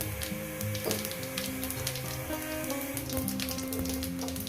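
Whole cumin seeds spit and sizzle in hot oil as a tempering for a rohu fish curry, a dense even crackle with a low hum beneath, close and unbroken.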